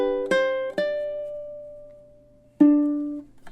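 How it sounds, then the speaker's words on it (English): A ukulele plays the chord pair of measures 15 and 16 from a Christmas song: two quick strums, a long ringing chord, then a final strum, close and unaccompanied. "And the pair there, 15 and 16, sounds something like this."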